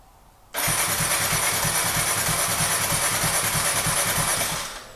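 A Kawasaki Z125 motorcycle engine cranks and catches after a cold start, then runs with a loud, steady, slightly uneven rumble close by for several seconds before tapering off at the end.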